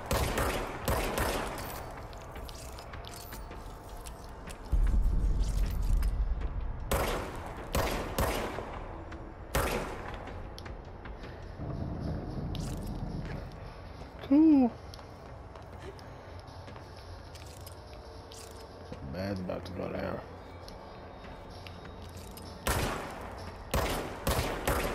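Service weapon gunfire in the video game Control: several short, loud broadband bursts go off at irregular moments, with quieter game ambience and movement in between.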